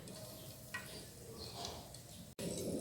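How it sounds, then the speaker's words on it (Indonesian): Shallots sizzle in hot oil for a Manado-style fried skipjack dish, a steady close crackling hiss with faint stirring clicks, briefly cut off before resuming. "ini minyaknya masih panas ya, jadi saya langsung bikin goreng-gorengannya ya"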